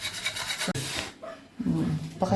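A close, gritty scraping of old grout off bathroom tiles rubs back and forth in short strokes, with brief pauses between passes.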